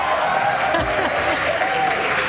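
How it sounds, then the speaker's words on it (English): Crowd watching the SpaceX Crew 10 launch cheers and applauds in a brief, loud, continuous burst under a faint commentator's voice. "the crowd is going wild"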